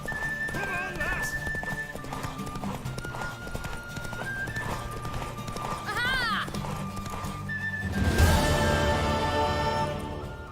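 In The Witcher 3: Wild Hunt, hooves clip-clop at a gallop during a horse race, with a horse whinnying partway through, set against a busy layer of music and voices.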